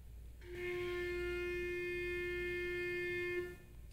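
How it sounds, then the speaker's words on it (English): A clarinet or saxophone reed buzzing on the mouthpiece alone: a single sustained, bright, reedy squawk that holds one pitch steadily for about three seconds, then stops. "When the reed vibrates against the opening in the mouthpiece,"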